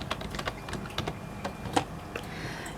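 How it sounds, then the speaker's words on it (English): Fingers typing on a computer keyboard, a quick, irregular run of close key clicks over a few seconds. "let me type this in."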